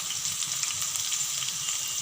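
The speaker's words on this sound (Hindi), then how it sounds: "अब हम इसमें ये भिंडी डाल के फ्राई करेंगे। अब हम इसको हल्का हल्का शैलो फ्राई करेंगे" Okra shallow frying in hot oil gives a steady, dense sizzle with fine crackling throughout, close and even in level, with no voices.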